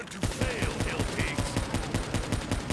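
The Draken gun firing in Call of Duty Zombies on the Zetsubou no Shima map: a rapid, evenly spaced string of loud, close shots running without a break.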